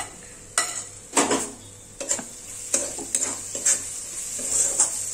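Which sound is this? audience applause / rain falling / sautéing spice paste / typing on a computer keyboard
sautéing spice paste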